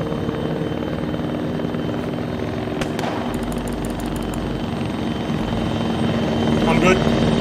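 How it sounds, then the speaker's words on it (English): A helicopter in a war video game set in Afghanistan in 1980 drones steadily nearby, its low rotor rumble constant throughout and swelling slightly near the end, with brief bursts of other game sounds and some talk over it. "Helicopter behind us."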